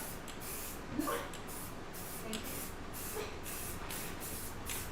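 Steady hissing spray from an aerosol can painting the backs and sides of coasters, close by, running continuously with slight pulses and a faint knock near the start.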